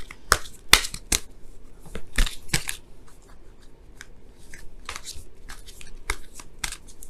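Tarot cards being shuffled and pulled, a run of crisp riffling snaps and flicks with quieter papery rustling between them, close and fairly loud, with no talking.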